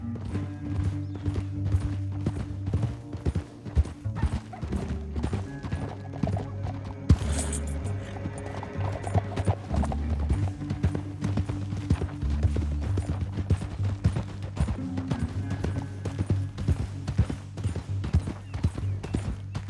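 Steady clip-clop of horse hooves at a trot in the video game Red Dead Redemption 2, rhythmic and continuous over a low background drone, with a brief rattle partway through.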